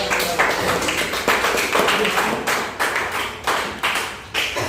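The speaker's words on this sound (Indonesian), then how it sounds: "beri tepuk tangan yang meriah untuk tim Malaysia" An audience claps for a debate team at a talk show, giving a steady burst of applause with sharp, uneven hand claps that rise and fall in clusters.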